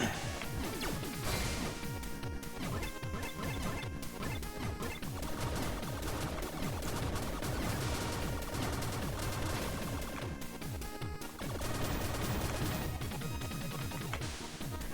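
A weapon fires in the video game Blaster Master Zero, with repeated sharp gunshot blasts over dense, continuous game music and effects that go on throughout, loud and busy.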